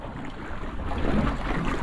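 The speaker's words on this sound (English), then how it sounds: "you can hear the waves under the rocks here" Sea waves wash under coastal rocks, a soft low surging swell mixed with wind rumble, no voices.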